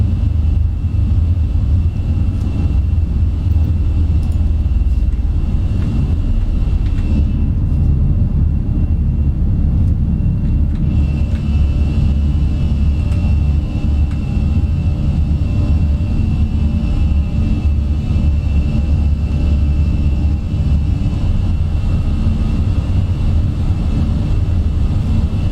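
Fenix Simulations A320 jet climbing out after takeoff in Microsoft Flight Simulator, a loud steady engine roar with deep rumble that holds constant throughout, no voices.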